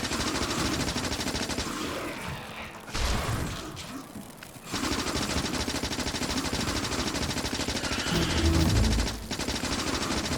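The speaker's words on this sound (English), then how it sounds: "that SMG really helped" Rapid SMG gunfire from the Factorio video game, fired at worms, rattles in dense continuous bursts with a brief lull around the third and fourth seconds, then resumes loud and steady to the end.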